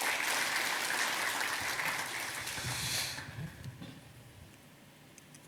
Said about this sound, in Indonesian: Oleh karena itu kita berikan aplaus sekali lagi